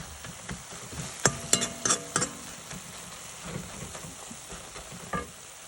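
Saag leafy greens sizzle in a frying pan while a spoon scrapes and clinks against the metal in a few sharp strokes, over a steady hiss of cooking.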